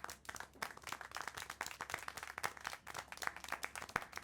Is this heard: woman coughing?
no